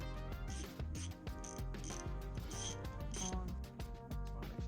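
A big half-inch ratchet tightens T45 Torx head bolts on a Volkswagen GTI engine, giving rapid, close clicking pawl strokes in quick repeated bursts with brief pauses between swings; a voice speaks briefly.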